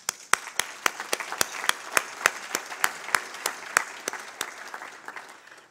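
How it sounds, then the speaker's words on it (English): An audience at a Top 10 Tech Trends evening program claps steadily, with sharp individual claps standing out above a dense wash of applause that fades slightly toward the end. "and they definitely get applause"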